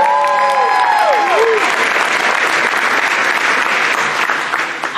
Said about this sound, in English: please don't forget to support them by clapping and cheering them on